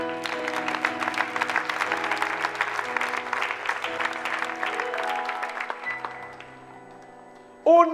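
Church congregation at a seminary applauding and cheering, a dense sustained clatter of many hands with music tones underneath that fades out near the end before a brief loud burst.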